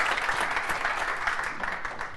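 Dense applause from a seated audience at a club competition event, steady and sustained throughout at moderate level with no voices over it.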